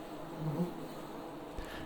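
Honey bees buzz around an open horizontal Langstroth hive during an inspection, a soft steady drone with a brief louder buzz passing close, and no talking.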